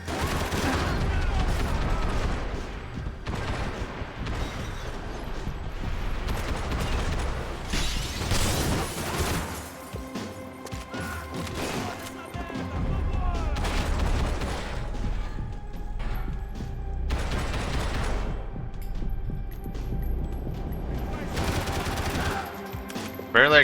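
Sustained gunfire in the third-person shooter Max Payne 3 fills the scene with dense, repeated shots and bursts, along with clanks and mechanical impacts, loud and close throughout.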